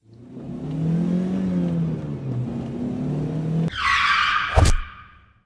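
A car skids with a sustained tire squeal and engine noise, then a sudden high, bright crash burst near the end, loud and alone without talk.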